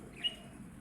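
A pet budgerigar gives a single short, thin chirp at the middle, faint against a quiet indoor background.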